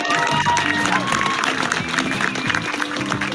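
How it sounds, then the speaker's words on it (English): A crowd applauds and cheers the winner of a worm charming contest outdoors, loud sustained clapping with someone talking over it throughout. "Big round of applause, please."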